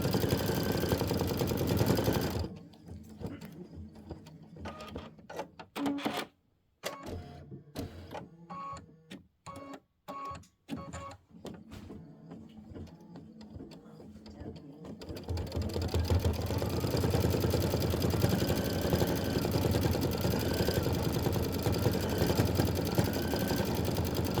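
Embroidery machine stitching stars on a Kimberbell quilt block, a rapid mechanical buzzing hum that breaks into stop-start bursts and pauses midway before resuming steadily.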